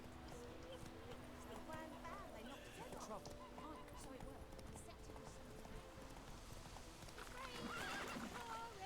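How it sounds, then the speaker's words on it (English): Roach, a horse in The Witcher 3 video game, whinnies and gallops, with steady hoofbeat clip-clops and a neigh rising near the end, all fairly quiet under game ambience. "So here's our horse Roach. You call him by pressing X."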